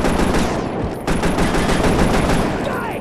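Dense, continuous automatic gunfire erupts in the video game Scarface: The World Is Yours, a loud rapid rattle of overlapping shots filling the whole stretch with only a brief break near the middle.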